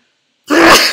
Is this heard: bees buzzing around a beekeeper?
no